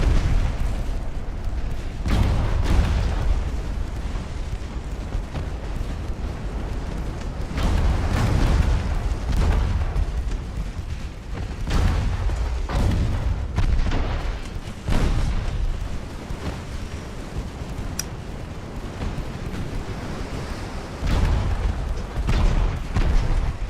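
Naval artillery fire in Ultimate Admiral: Dreadnoughts, set in an 1890 campaign with British ships firing on an American fleet: repeated heavy booms and rumbling blasts roll on continuously, loud and layered, some closer and some distant, with no talk.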